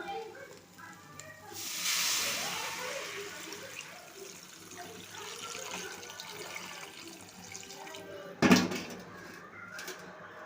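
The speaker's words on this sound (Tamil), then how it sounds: "இப்போ நம்ம புளித்தண்ணியை கரைச்சி ஊற்றிக்கிடுவோம்" Tamarind water pours and splashes into a pot of simmering fish curry with a soft hiss, followed by a short clatter, against faint kitchen background.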